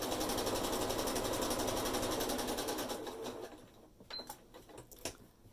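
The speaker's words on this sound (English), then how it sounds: "I'm stitching right on the line that I've made." A sewing machine runs steadily, stitching fabric along a marked line with a fast, even mechanical chatter, then slows and stops, leaving a few light clicks and handling noises.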